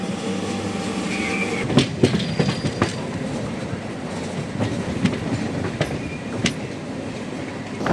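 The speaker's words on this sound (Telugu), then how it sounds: "మన ట్రైన్ అయితే రాజమండ్రి స్టేషన్ నుండి అయితే బయలుదేరిపోయింది" A MEMU passenger train from Rajahmundry toward Bhimavaram runs on the tracks, heard from inside with a steady rumble, clattering wheel beats and sharp rail clicks recurring every second or so, with no voices.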